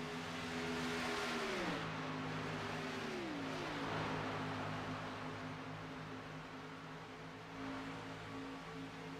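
Stock race cars roaring around the Talladega superspeedway, a loud sustained engine drone with pitch sliding down as the pack passes, then a steady high-speed hum with wind noise and no talk.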